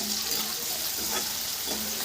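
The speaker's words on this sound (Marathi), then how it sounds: "कांदा टाकायचा मस्त फ्राय करून घ्यायचा" Chopped onion sizzles in hot oil in a pan at close range, a steady bright crackling hiss that holds at an even level throughout with faint stirring.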